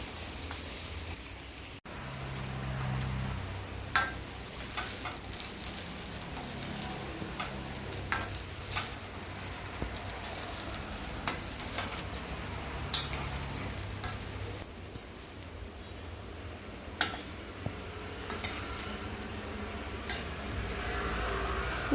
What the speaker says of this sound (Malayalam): ഇനി ഇതിലേക്ക് വേവിച്ച് വെച്ച റൈസ് ചേർത്ത് ഇളക്കി മിക്സ് ചെയ്യാം.